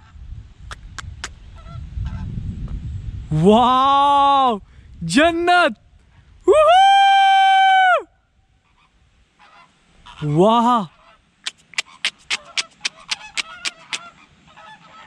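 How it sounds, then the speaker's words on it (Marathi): A large flock of big birds calls overhead on a forest trek near Kalu Waterfall in Maharashtra, with loud drawn-out honks in separate bursts, people exclaiming between them, and a run of sharp clicks at the end. "बाप रे, किती पक्षी आहेत हे वरती, पूर्ण थवाच्या थवा आला इथे."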